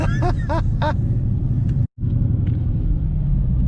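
A twin-turbo new daily-driven car rumbles loudly and steadily at launch, its engine note near and continuous with a brief break midway, while faint rising whine-like tones sit above the low roar early on.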